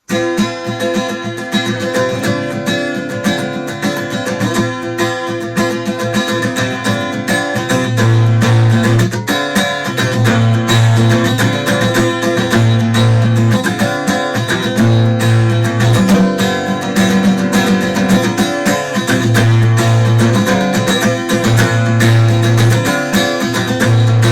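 Strummed guitar chords from a pop-punk song, a continuous, full, fairly loud chord progression with rhythmic strumming and shifting low notes throughout.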